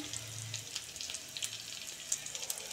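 Onions frying in a pan for paneer matar masala give a steady, soft sizzle with crackly bright pops scattered throughout, close and fairly quiet, with no one talking.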